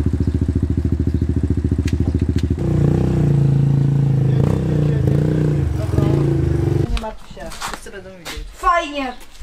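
A Suzuki LTZ 250 quad idles with a rapid, even engine and exhaust throb, then the pitch rises and falls as it revs up, close by and loud, before giving way to people talking.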